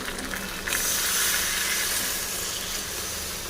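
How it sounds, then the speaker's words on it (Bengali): Water poured into a hot pan of mushroom curry with vegetables and cornflour, giving a steady close hiss of sizzling steam that swells slightly and holds. "এবার দিয়ে দিলাম পরিমাণ মতন জল।"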